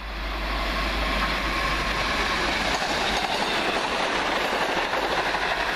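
A passenger train from London King's Cross to Peterborough passes at Welham Green, a loud steady rush of rolling wheels and rail noise with rhythmic clatter, close by and sustained throughout.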